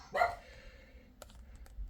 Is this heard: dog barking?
yes